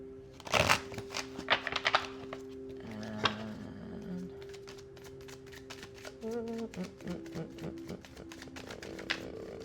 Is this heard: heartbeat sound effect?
no